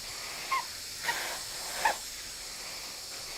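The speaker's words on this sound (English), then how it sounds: "I'm going to then come in from the other side and just apply a little bit of steam." A steam iron hisses over Christmas fabric in short, soft bursts, about four puffs spaced roughly a second apart over a steady faint background hiss.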